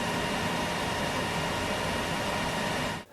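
A steady, broadband whir of an EcoFlow Delta 2 portable power station's cooling fans runs continuously at moderate volume, around 60 decibels, then cuts off abruptly at the end.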